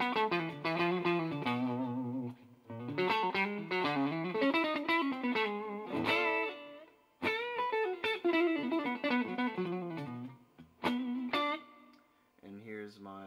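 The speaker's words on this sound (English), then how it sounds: "Some clean tones. This is my neck pickup." An electric guitar on its neck pickup plays clean, melodic phrases through a Velvet Umble overdrive pedal, with notes ringing in bursts separated by brief pauses.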